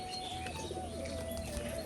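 Pigeons cooing in a loft, soft low coos repeating behind a faint steady background hum, close and fairly quiet, with no voices.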